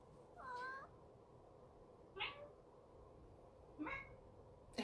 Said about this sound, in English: That's our kitty kitty.